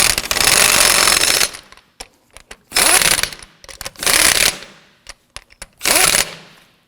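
An impact wrench snugs down lug nuts on a 2008-2011 Ford Focus wheel in four loud rattling bursts, each about a second long, separated by short clicks and clanks of handling.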